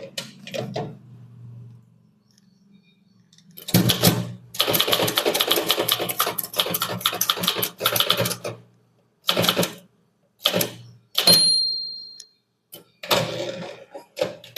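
A typewriter being typed on during an English typewriting lesson: quiet at first, then a dense run of rapid mechanical key strikes, followed by shorter separate bursts of keystrokes with pauses between them, heard up close.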